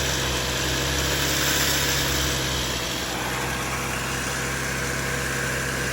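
A 2015 Chevy Equinox engine runs steadily at about 2,000 RPM during a tune-up, producing a loud, even, close drone with no change in pitch and no talk.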